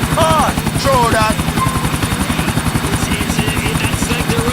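A video game helicopter flying, with a loud, steady rapid rotor chop that throbs throughout. Brief voice-like tones and chirps sit over it at times.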